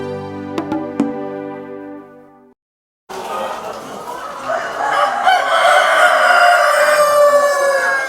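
Poultry heard up close: a sustained harmonic tone first, then after a brief gap a dense flock of chickens clucking loudly with a rooster crowing among them.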